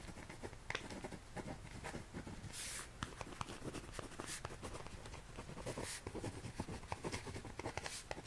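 A pen scratches steadily across paper as notes are written by hand, close and intimate, with a continuous fine scribbling texture and occasional taps and strokes throughout.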